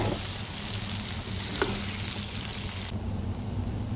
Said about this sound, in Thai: ใส่ไปผัดด้วยนะผัดรวมกันนะคะ